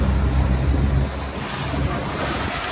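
A boat pitches through choppy water off Puerto Vallarta, Mexico, with loud wave splashes and buffeting wind noise at the mic, heaviest in the first second and then a steady rush.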